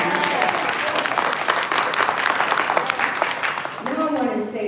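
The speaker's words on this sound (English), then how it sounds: "Give him a hand." Sustained audience applause from a crowd at a civic event honoring a mayor pro tem, steady dense clapping that fills the whole stretch and begins to fade near the end.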